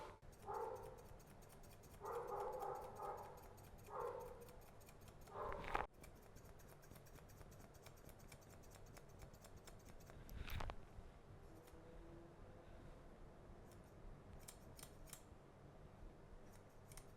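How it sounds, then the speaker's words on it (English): Thinning shears snip through short hair during a buzz-cut fade at home, a few soft clusters of quick close cuts followed by a sharper single snip, then low room noise. "using the thinning shears."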